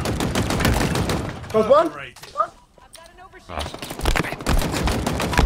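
Rapid gunfire from the video game Halo rattles in quick bursts, pausing while a player speaks briefly, then resuming in dense volleys near the end.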